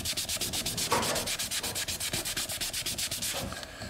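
A cloth soaked in alcohol rubs steadily back and forth over a wooden quilted mandolin board in quick, even strokes, a close, continuous scrubbing rhythm with no talking.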